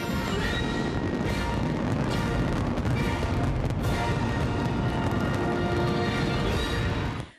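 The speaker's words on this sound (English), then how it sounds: "More than 1 million people gathering to watch Macy's 4th of July fireworks spectacular." Macy's 4th of July fireworks over New York City crack and boom continuously, a dense, loud barrage of blasts that fills the whole stretch before cutting off abruptly.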